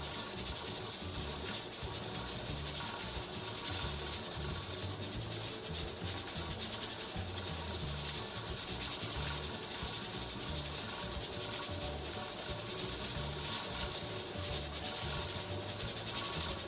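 A pot rattles on a stove while beef bone broth simmers, giving a steady, faint buzzing rattle that continues without a break and with no voices.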